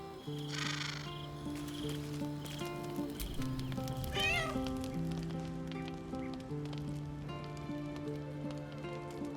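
A cat in the Baldur's Gate 3 video game meows in a couple of short, clear calls, including one rising chirp, over steady musical tones and a soft patter of rain.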